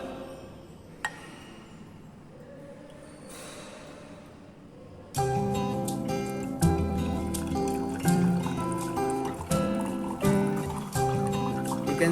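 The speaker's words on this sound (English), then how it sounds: "You can see water is coming out." Water drains from a separating funnel into a beaker, starting as faint scattered drips and then turning into a steady, louder trickling stream that splashes into the liquid below.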